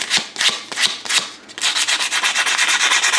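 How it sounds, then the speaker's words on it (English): A metal spoon being sanded across its front face while being made into a fishing lure, with steady close rasping strokes, a few separate passes at first and then a quick continuous back-and-forth rhythm. "I'm going to sand the whole thing, front, not the back."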